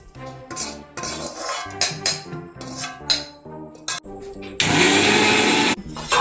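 A mixer grinder whirs loudly in a kitchen, grinding roasted coconut, shallots and curry leaves for a jackfruit and prawn curry, a roaring burst near the end after clinks, knocks and short bursts of handling.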